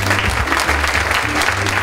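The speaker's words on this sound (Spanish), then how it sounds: "quiero pedirles ese fuerte aplauso para la presencia sobre este escenario de Emelina Jovita Hernández López." An audience claps loudly and steadily at a stage presentation honoring a senior festival queen, a dense, sustained round of applause close by with no one speaking over it.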